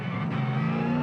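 Supercars race car at the Darwin Triple Crown, its engine roaring loud and close in a sustained high rev on the run toward a turn, with no talk over it.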